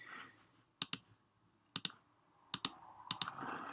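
Computer mouse clicks while drawing in AutoCAD on a Mac: four quick pairs of sharp, near clicks, each pair spaced about a second apart, over a quiet hum.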